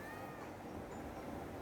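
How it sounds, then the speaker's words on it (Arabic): A cat meows inside the Roblox video game, a faint, steady game sound with no talking over it. "انا عملت مياو"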